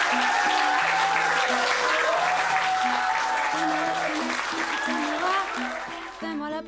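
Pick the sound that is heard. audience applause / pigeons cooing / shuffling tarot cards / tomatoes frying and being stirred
audience applause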